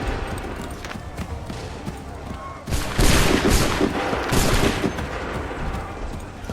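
Musket volley firing in Assassin's Creed III, with a massed crackling volley erupting midway over a noisy battlefield backdrop and lingering rolling shots, with shouting voices around it.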